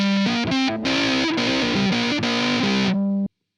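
A heavily distorted electric guitar runs through the Voxengo Boogex amp-simulator plugin, playing a short melodic phrase of sustained, buzzing notes with a few brief breaks, loud and close, then cutting off abruptly.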